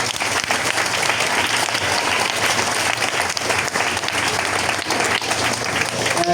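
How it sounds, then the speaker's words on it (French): Loud, sustained applause from an audience at a stage hypnosis show, dense clapping filling the room steadily throughout, with some crowd noise mixed in. "Et on les applaudit très très fort, c'est beau."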